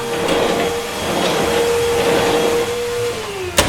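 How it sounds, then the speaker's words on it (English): A vacuum cleaner runs loud and close with a steady motor whine that dips in pitch near the end, followed by a sharp knock. "the vacuum is a highly underrated forearm workout"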